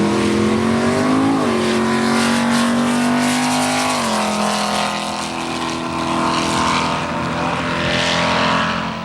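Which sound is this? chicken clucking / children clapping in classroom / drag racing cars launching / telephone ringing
drag racing cars launching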